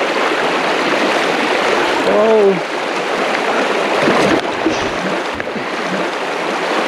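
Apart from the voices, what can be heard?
river stream flowing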